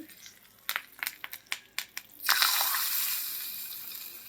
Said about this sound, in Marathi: आणि आपण ही फोडणी यामध्ये घालायची.